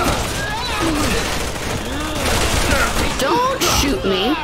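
Gunfire in the Resident Evil 6 video game, dense continuous bursts of shots under a busy game soundscape with echoing chirps and clanks, loud and close throughout.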